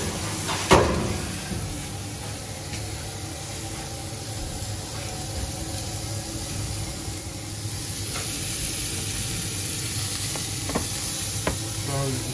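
Cauliflower frying in butter in a hot pan, a loud steady sizzle and hiss with a sharp clatter early on and a few faint scrapes, no voice over it.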